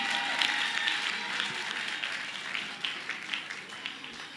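An audience at a gospel singing competition applauds a young female singer with steady, dense clapping that holds even throughout, slightly distant in the room.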